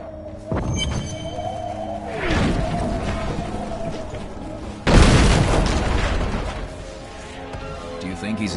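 Heavy war-machine bombardment in the Diablo 3 battlefield, with deep booming explosions rolling in one after another, loud and close, with a sustained rumbling roar between hits.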